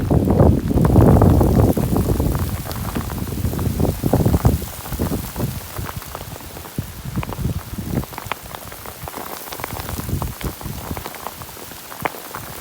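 A downpour on a countryside farm near vegetable beds and a greenhouse: thick, loud rain patter that swells at first, then settles into a steady close hiss of drops with light wind buffeting.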